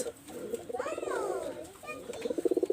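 Pigeons coo in a short, close series of soft, rounded calls, with a brief chirp partway through, heard alone with no talk over them.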